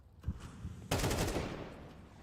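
In a Counter-Strike match, AK rifle gunfire comes as one short crack and then a denser burst of rapid shots that fades out. It plays fairly quietly, with no talk over it.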